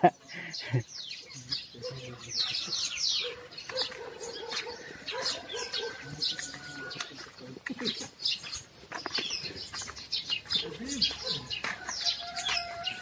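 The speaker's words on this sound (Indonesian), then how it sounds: "Banyaknya suara burung." Many birds chirping and tweeting in quick, overlapping calls in a garden in the morning, a lively chorus of small songbirds with some low background noise underneath.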